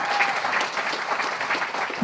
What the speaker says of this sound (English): let's give all of these folks who are holding up our students a round of applause